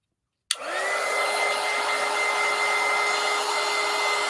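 A hair dryer switches on after half a second of silence and runs at a steady, loud whir while drying paint on a craft project, with a constant tone held throughout and no talking.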